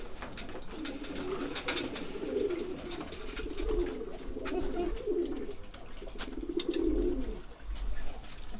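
Pigeons cooing softly in repeated low rolling phrases, some close and some a little farther off, with faint chirps and light background noise and no talk.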